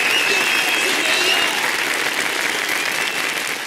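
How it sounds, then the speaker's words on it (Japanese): Audience applause in the video game Yakuza 0, dense continuous clapping from a crowd, loud and close, fading slightly toward the end. "勇気あるご判断をなされたこちらのお客様にも拍手を。"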